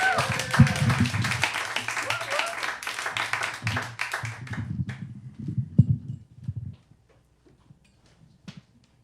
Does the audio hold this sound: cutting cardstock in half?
no